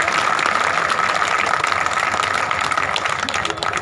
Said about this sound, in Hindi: उन महिलाओं के नाम पे तालियां।